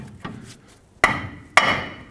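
A hammer strikes the steering knuckle of a 2008-2010 Ford F-250 during an upper ball joint replacement: a faint first tap, then three sharp, ringing metallic blows at irregular intervals, up close with no talking.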